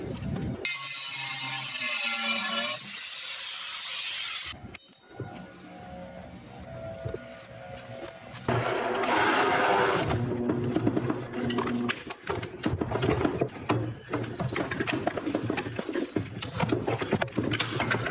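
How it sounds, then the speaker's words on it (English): Metal crossbar being cut off a piece for a boar spear: a loud, harsh mechanical cutting noise that starts, breaks off briefly around the five-second mark, then grinds on steadily for the rest of the stretch. "we're gonna cut off this crossbar right here"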